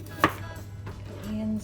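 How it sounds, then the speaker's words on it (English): A knife makes one crisp, close chop through the end of a carrot on a board, followed by quieter kitchen sounds and a low hum, no talking. "Time to chop the carrot."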